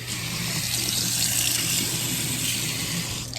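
Steady rushing water pours continuously into a container, a constant close hiss with a faint low hum beneath, no talking.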